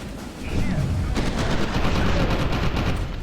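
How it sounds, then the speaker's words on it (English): Gunfire in the video game FEAR 2 aimed at a tank, a loud dense burst of rapid shots running continuously after a brief quiet start, with no pauses. "how many holes do I need to shoot in your fucking... tank"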